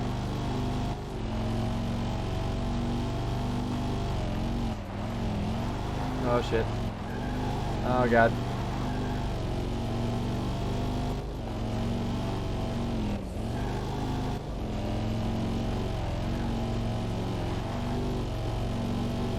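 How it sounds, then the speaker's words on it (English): Old Corvette race car with about 300 horsepower accelerating on dirt in a racing game: a loud, sustained engine drone that climbs and drops through gear changes, with brief exclamations from a player over it. "this car it accelerates pretty quick"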